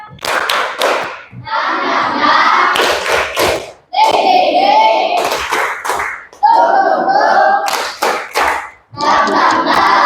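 A group of children chant and clap in a quick rhythmic pattern, hand claps and slaps punctuating their loud, lively voices throughout.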